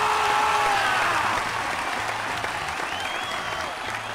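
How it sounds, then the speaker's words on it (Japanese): A crowd applauds loudly and continuously in the video game Tales of Hearts R, a dense wash of clapping that slowly tapers off a little toward the end. "皆様、盛大な拍手を。"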